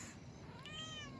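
A kitten meows in a single rising-and-falling call, close and clear over a steady low background hum, no talking.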